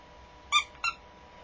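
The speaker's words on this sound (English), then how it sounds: "He squeaks, both his feet squeak." A plush toy crocodile's feet squeak twice in quick succession, two short, bright, close squeezes over a quiet background.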